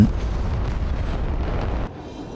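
A heavy explosion booms at the start, then a rumbling roar that cuts off abruptly into quieter noise, as a Patriot missile launcher vehicle blows up in the video game Broken Arrow.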